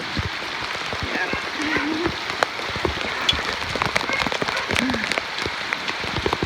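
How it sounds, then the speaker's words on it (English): Heavy rain pours steadily across the surface outdoors, a dense patter with sharp drips and splashes close by throughout. "we are having some heavy rain, as you can see"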